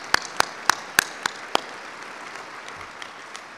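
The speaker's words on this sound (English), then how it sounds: "If you could please offer a round of applause for their volunteer contribution for this." A round of applause at a business awards ceremony: several sharp, spaced claps ring out in the room, then taper off into scattered faint taps.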